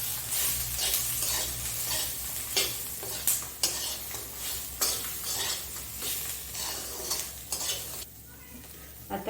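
Spices with Kashmiri chili and a spoonful of salt stir-roasting in a pan for Veg Maratha, with a spoon repeatedly scraping the metal in rhythmic strokes over a soft, steady sizzle.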